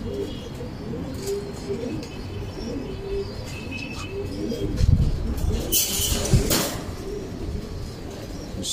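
Pigeons in a loft coo in low, soft murmurs that run on throughout, with scattered chirps and a couple of brief rustling bursts partway through, fairly close and without any talk.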